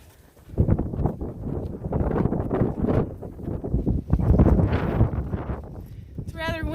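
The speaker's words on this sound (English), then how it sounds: "It's rather windy up here." Steady wind on a mountain climb up to Rocky Top buffets the microphone, a broad low rumble running under nearby talking throughout.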